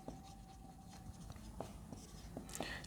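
Chalk or marker scratching across a classroom board as an equation is written, soft continuous strokes with small taps, faint over steady room noise.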